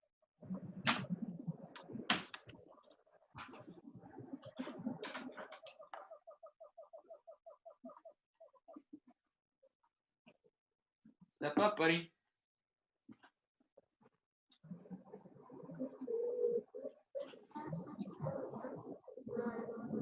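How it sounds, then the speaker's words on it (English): A small owl gives a rapid, trilling run of notes, then a burst of quavering calls, with a person talking quietly before and after. "the owl that I have, who is actively making noise right now"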